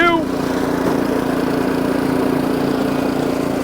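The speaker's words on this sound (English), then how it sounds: "Let's put this baby through a test run and get it through its gears." An Ariens snowblower engine running steadily on a test run, a close, loud, even drone with a constant hum throughout.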